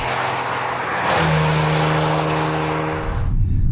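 A 2019 Maserati Levante 350 V6 engine, loud and close, with a steady drone that rises into a stronger pitch as the SUV accelerates, then cuts off near the end.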